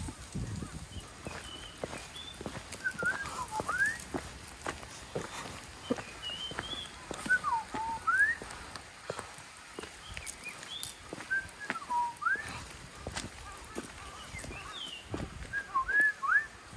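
Short chirping bird calls repeat on and off throughout, fairly faint against a soft outdoor background with occasional light taps.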